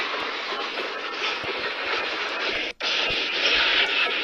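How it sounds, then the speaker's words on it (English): Indian train locomotive running on a morning journey, a steady broad rumble and rushing noise continuous throughout, with a brief dropout near the end before it resumes. "Yeah, guys, I think this locomotive called Vamfor."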